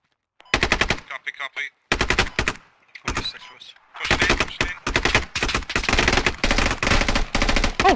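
Automatic gunfire in the tactical shooter Squad rattles loudly in long, dense bursts with short pauses between them, near and dominant throughout.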